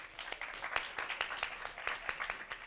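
Live audience at a Colombian community house clapping for an immigration storytelling talk, a brief, moderately quiet round of hand claps with irregular individual slaps.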